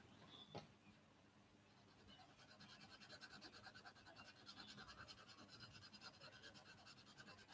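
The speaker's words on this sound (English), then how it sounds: "The scratching sound goes through me." Faint, steady scratchy strokes of a colored pencil on paper, continuous and quiet with a soft rhythmic texture and a brief tap near the start.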